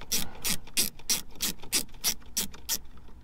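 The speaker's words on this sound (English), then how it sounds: "So we're just gonna take this screw all the way out." A ratchet fitted with a 3 mm Allen socket backs a screw out during heater core replacement on a Dodge Caravan or Chrysler Town & Country: about nine crisp, evenly spaced clicks, close up and alone.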